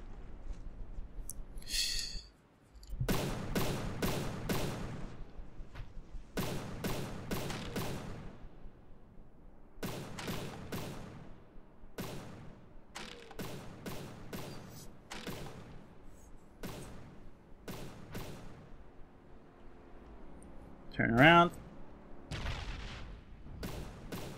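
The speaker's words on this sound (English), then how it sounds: "That's a cinematic explosion." Explosions and gunfire in the naval combat game From the Depths come as a string of sharp, booming bursts spaced a second or two apart, with a whooshing blast near the end.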